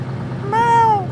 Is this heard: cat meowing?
yes